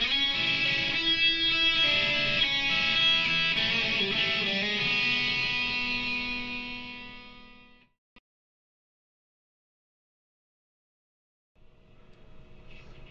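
A distorted electric guitar runs through a full solo lick with hammer-ons and open strings, the notes fading out to silence before a faint strum returns near the end.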